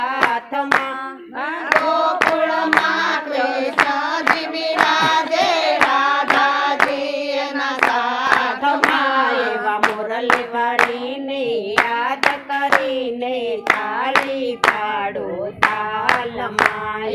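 A group claps steadily in time to a devotional Shiva Shakti bhajan, sharp hand claps riding over loud sung melody and harmonium-like accompaniment throughout.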